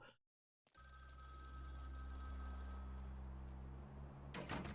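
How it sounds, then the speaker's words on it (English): A telephone bell rings steadily in Vampire: The Masquerade - Bloodlines, a near, sustained tone that starts after a short silence and runs for several seconds before a brief clatter at the end. "There's a phone! It's ringing!"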